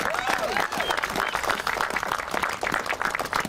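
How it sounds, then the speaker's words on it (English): Crowd applause at an outdoor groundbreaking ceremony for the South Acton train station, scattered but continuous clapping with some cheering and voices mixed in, moderately loud and lively. "So how about a round of applause for Dr."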